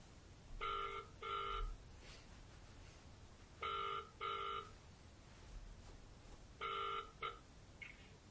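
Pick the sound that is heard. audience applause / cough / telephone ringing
telephone ringing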